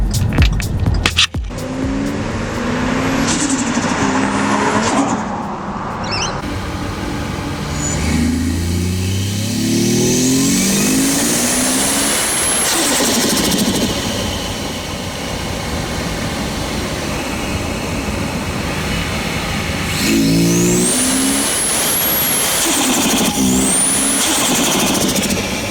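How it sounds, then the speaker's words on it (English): A Ford FGX engine heard from inside the engine bay beside the air filter, idling with a steady drone and then revving up and back down in several loud, rising and falling sweeps, with no talking. "I've got my phone in the engine bay there next to that air filter, and that gives you a much better sound of inside the engine bay"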